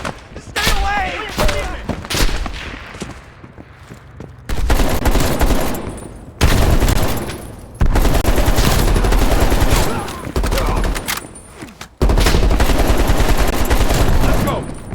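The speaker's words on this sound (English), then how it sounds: "They're shooting at us!" Dense, loud gunfire from a Call of Duty Black Ops Cold War campaign battle, with sustained automatic bursts and heavy thumps broken by brief lulls, while voices shout over the shooting.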